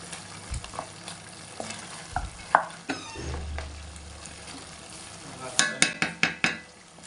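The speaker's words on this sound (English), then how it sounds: "Now pour in your palm oil and stir." Palm oil being stirred into a pot of Afang soup, with a spoon scraping and clinking against the pot in uneven strokes and a soft sizzle beneath. A quick run of sharper knocks comes near the end.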